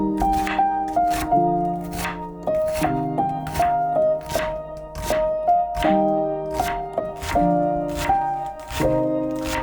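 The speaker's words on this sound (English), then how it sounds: "Let's give them a fine chop." Green onions are finely chopped with a knife on a cutting board: quick, steady clusters of crisp taps repeat close up under background music, with no talking.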